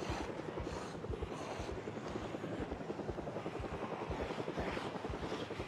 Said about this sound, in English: no way that was a helicopter